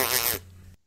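A voice imitates a fart: one short, buzzy, spluttering raspberry lasting under half a second, close and fairly loud, followed by a brief trailing hum and then silence.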